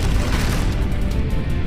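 Volcano eruption explosion effect: a dense, deep roaring boom that fills the whole stretch, loud and continuous with rumbling low end and no voices.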